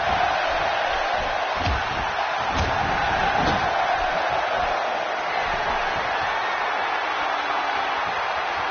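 A wrestling arena crowd in the video game WWE 2K16 roars and cheers continuously, a dense steady wall of noise with a few sharp slams cutting through.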